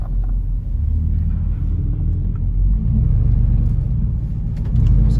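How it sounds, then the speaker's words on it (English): A truck drives with its windows up on a chilly day, a loud low engine rumble rising and settling as it shifts through the gears, steady and close with no talk. "Just gonna make sure that the truck's going through the gears just as it should."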